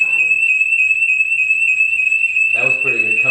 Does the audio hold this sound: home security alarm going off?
yes